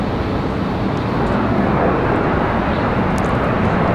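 A CRJ regional jet at Raleigh Durham airport gives a loud, steady broadband engine roar that fills the whole moment without any letup, heard close and alone.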